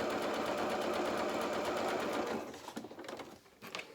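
A sewing machine runs steadily while stitching a pocket on a milliner's waistcoat, a close, continuous whirring hum that stops partway through, leaving a few quieter clicks and handling sounds.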